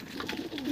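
Madras pigeons in a loft give soft, low cooing calls, a few murmured coos close by, ending in a slightly louder drawn-out note.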